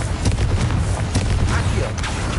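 A Confringo fire spell blasts in Hogwarts Legacy, a continuous loud, rumbling explosive roar filling the whole short moment.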